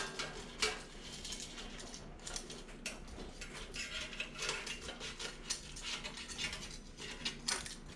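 Fried chicken with a cornstarch breading is turned over in an air fryer basket, giving busy metallic clinks and scrapes of tongs against the basket, dense and close, with no talking.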